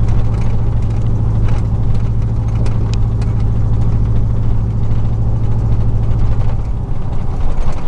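A 2000 4.8 V8 idling on only four cylinders, a loud, constant low rumble with an uneven pulsing throb, close up and steady for the whole stretch without any voices.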